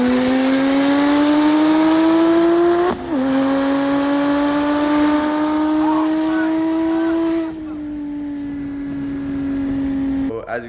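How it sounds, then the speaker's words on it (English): A turbocharged BMW E36 M3 race car accelerating hard, its engine tone rising steadily and loudly through the gears with brief dips at the shifts, heard close and steady throughout. "I don't know if you guys remember the E36 M3 that I raced last year"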